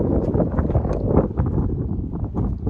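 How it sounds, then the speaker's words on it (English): Strong wind roars and buffets the microphone in a continuous low rumble, gusting steadily throughout. "You probably can't hear me because it's so windy."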